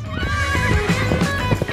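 A horse at a medieval joust whinnies loudly and close, its neigh mixed with the rhythmic clatter of hooves, all dense and continuous.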